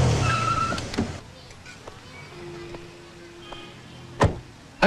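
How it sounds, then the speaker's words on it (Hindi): A car slows and pulls to a stop, a loud engine and tire rush at first that fades into quieter idling, with a few sharp knocks and clunks near the end. "अरे एक मिनट गाड़ी रोको।"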